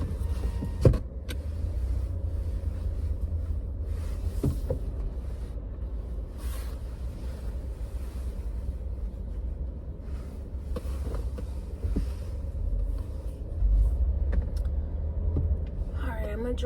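Car driving along a street on a short errand run, a steady low engine and road rumble heard from inside the cabin throughout, with occasional clicks and soft knocks.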